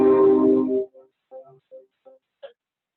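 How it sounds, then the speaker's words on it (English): A minor triad sounds first as one loud sustained chord lasting under a second, then its notes follow singly as a short run of soft, separate tones, spaced evenly. "Next, we have the minor triad."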